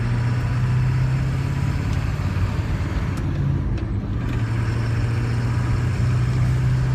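An old pickup truck with 220,000 miles and a new clutch drones at a steady, low rumble while moving. The level shifts slightly partway through as the driver changes gear.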